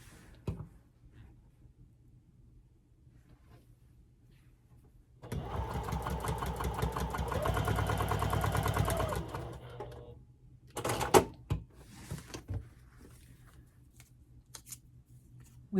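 Sewing machine stitching quarter-inch seams along the short edges of a fabric box pocket, a steady whirring run of about five seconds after a quiet start, followed by a few short bursts and handling clicks.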